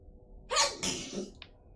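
A single close sneeze, a sharp inhale followed by a forceful burst, heard alone against quiet background.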